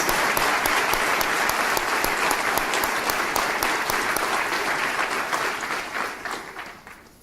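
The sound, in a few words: audience applause for young men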